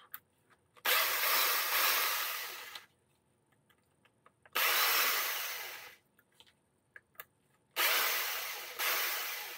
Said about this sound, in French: Allez, on va prendre la visseuse, ça ira un peu plus vite.